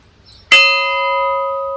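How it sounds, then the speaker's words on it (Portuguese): A single metal bell is struck once, ringing out loud and close with a sharp attack and a long, sustained tonal hum that fades only slightly. "É só pra tocar o sino de novo, seu João."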